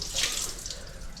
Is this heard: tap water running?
yes